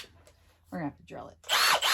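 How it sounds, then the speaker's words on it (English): Short bursts of a power drill whirring in quick succession while drilling a pilot hole in a table, close by, with brief gaps between them and a louder final burst. "We're drilling a pilot hole."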